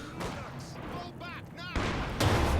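MG42 machine gun fire in Company of Heroes 2 comes as short, rapid crackling bursts over battle noise and distant booms, with a loud blast near the end.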